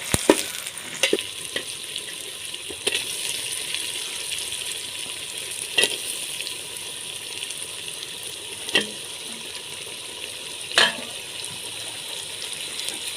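Onions frying in a kadhai alongside washed meat give a steady, close sizzle with occasional sharp stirring clatters, heard alone with no talking.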